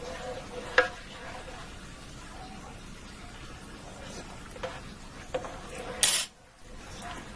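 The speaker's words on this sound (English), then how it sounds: "Give that a stir." Spaghetti sauce is stirred in a Ninja cooker, a soft, quiet scraping with a faint simmering crackle and a few light clinks of the spoon against the pot.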